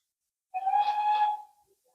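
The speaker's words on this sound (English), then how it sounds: "There goes the steam whistle." A steam train blows its whistle once, a clear, steady tonal blast of about a second with a soft hiss, sounding somewhat distant against near silence.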